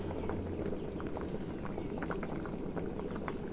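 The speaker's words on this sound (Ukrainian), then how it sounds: "Кипить вже аджика" Thick adjika sauce bubbles and pops steadily in a pot, a continuous close simmer with irregular little plops and spatters.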